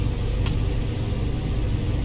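Steady droning rumble of the Junkers Ju 52 engines in Microsoft Flight Simulator, a continuous loud mid-pitched engine hum with no clear rise, briefly holding steady throughout.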